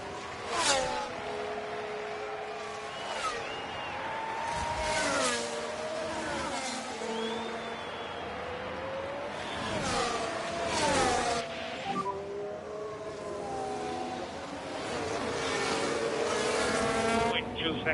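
Formula 1 race cars roar in the video game F1 Manager 24 at Interlagos, engines revving and sweeping past in repeated pitch-bending passes, with one car reported to have an engine problem, loud and continuous throughout.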